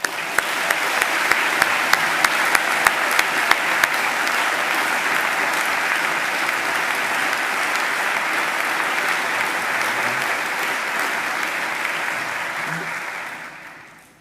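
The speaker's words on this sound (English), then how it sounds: "a second applause." Sustained audience applause at a university graduation ceremony, a dense, steady wash of many hands clapping that holds evenly for about fourteen seconds before tapering off at the end.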